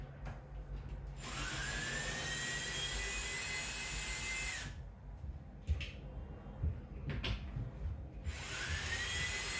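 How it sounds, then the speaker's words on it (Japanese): Electric screwdriver backing screws out of the inside wall of a caravan during a renovation, a steady close whine running for several seconds, stopping and restarting in short bursts. "電動ドライバーを使って一つ一つ外していきます。"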